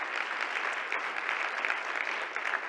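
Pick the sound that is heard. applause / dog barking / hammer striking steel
applause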